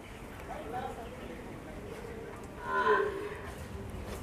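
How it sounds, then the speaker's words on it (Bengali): Bull calf on a dairy farm lets out one low moo near the end, fairly close, over a quiet farmyard background. "4 নম্বর ষাঁড় বাচ্চা।"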